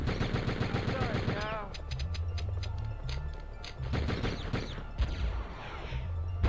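Rapid bursts of video game gunfire crackle close and loud, with a fast machine-gun rattle at the start and scattered shots afterward, mixed with game noise and a talking voice.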